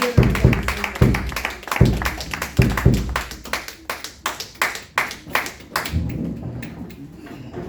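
A church congregation claps together, starting with loud, heavy rhythmic beats and then settling into quicker, lighter clapping that fades slightly toward the end, with a few voices faintly beneath.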